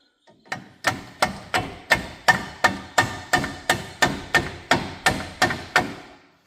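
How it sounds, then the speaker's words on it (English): A hammer strikes a punch to drive out brake caliper pins on a 2023 Chevy Colorado ZR2 during a front brake job: about fourteen crisp metallic blows in a steady, even rhythm, close and clear. "what he's doing is he's punching this pin here"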